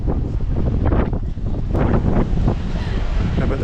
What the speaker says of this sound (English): It's obviously going to lose sound here because it's super windy